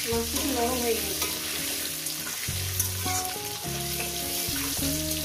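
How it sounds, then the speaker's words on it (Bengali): Potatoes fry in oil seasoned with salt and turmeric, a steady hiss of sizzling beneath louder background music. "আলুগুলো আমি ভেজে নেব প্রায় 4-5 মিনিট করে"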